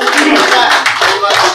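Audience clapping for a comedian and mimicry artist at a comedy show, a loud, close, continuous burst of hand claps with voices mixed in.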